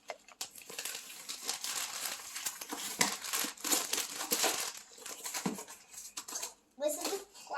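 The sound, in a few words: plastic wrapping crinkling while unboxing homeschool books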